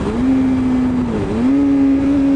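Engine of a Suzuki GSX-R600 motorcycle, loud and close, holding a steady droning pitch that dips briefly and then settles again as a gear is dropped.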